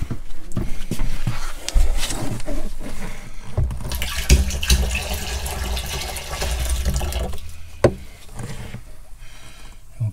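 Sanitising liquid glugs and splashes as it is poured into a motorhome's fresh water tank, a close, continuous gurgling pour with a few knocks and bumps.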